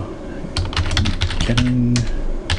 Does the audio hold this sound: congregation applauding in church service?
no